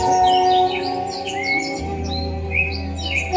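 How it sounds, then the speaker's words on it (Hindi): A large flock of birds in a mango tree in a dense forest chirps and tweets steadily, many overlapping calls, under a low hum. "आम के वृक्ष के ऊपर हजारों पक्षी चहचहा रहे हैं चारों तरफ से"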